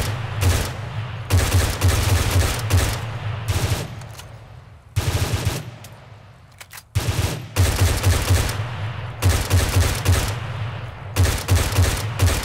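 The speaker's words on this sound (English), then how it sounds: "3, 2, 1, open fire." A squad opens fire in the ArmA 3 video game: loud, close volleys of rapid automatic gunfire in several long bursts, broken by brief lulls and a short pause near the middle, with no talking.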